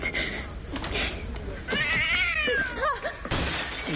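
A stray cat named Lonnie lets out loud drawn-out meows and wails with rising and falling pitch, close and prominent, amid other noisy sounds.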